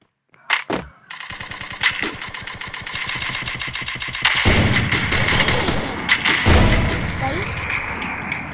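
Rapid bursts of automatic gunfire and single shots in a shooting video game, loud and dense, with booming impacts building toward the end while players talk over the action.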